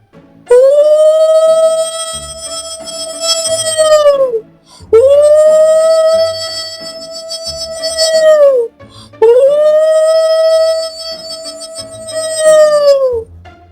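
Three long, loud, sustained jackal howls, each holding a steady pitch for about four seconds and dropping off at the end, separated by short pauses.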